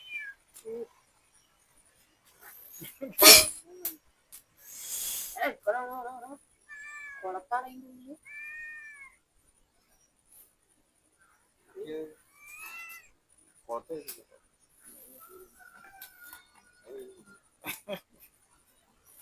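A pet cat tangled in fishing line at a backyard pond gives several distinct meows spread across the stretch, loud and close, between short bursts of human talk and a few sharp noises.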